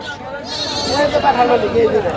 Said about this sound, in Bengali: এইদিকে পাঠা ছাগল দেখতে পাচ্ছি